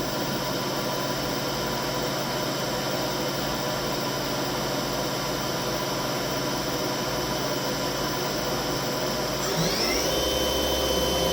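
A Leadwell V-25 vertical machining center spindle spins at 2,000 RPM, heard up close as a steady, even broadband whir with a constant hum, ending in a brief upward pitch sweep.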